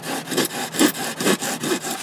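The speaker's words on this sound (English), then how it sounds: "Now I'm just going back with a rasp." A hand rasp shapes a wooden part for a mower-mounted leaf and grass vacuum, making about five even, rhythmic scraping strokes in quick succession, close and clear with no talking.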